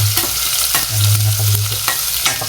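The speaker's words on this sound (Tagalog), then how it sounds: "pag magigisa ka talaga na kasi unahin natin ang sibuyas" Onion sautés in a pan for bitter gourd with sardines, a loud close sizzle broken by repeated scraping stir strokes at an uneven rhythm, with no one talking.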